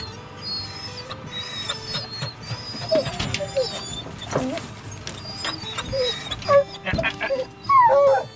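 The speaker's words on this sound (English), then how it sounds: "A lot of puppies today" Hunting hound puppies readied for a bear hunt whimper and yelp in high, thin cries, with a few sharper barks near the end, close by over a busy outdoor background.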